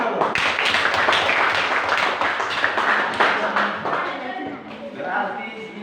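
Group applause in a classroom presentation session, a steady crowd of hands clapping at close range for the full stretch, thinning slightly toward the end with a few voices mixed in.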